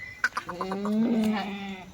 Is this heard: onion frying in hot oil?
no